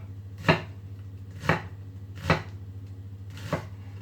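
A knife chops an onion into fine cubes on a board, four distinct close taps at a slow, even pace over a steady low hum, with no voices.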